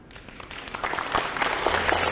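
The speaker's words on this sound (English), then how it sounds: "Let's give them a warm applause." A conference audience breaks into applause for a panel, scattered clapping that builds into a moderate, steady patter.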